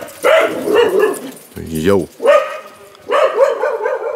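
Several dogs bark in repeated loud bursts close by, with a brief whine in the middle and a voice calling out among them.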